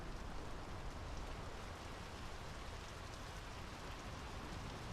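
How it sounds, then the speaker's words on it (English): Steady, dense rainfall in the Draugen video game, a continuous hiss of drops pattering on surfaces, evenly loud throughout with no voices. "Rain's picking up."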